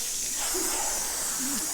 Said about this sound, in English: You spray the collar right off with hot water.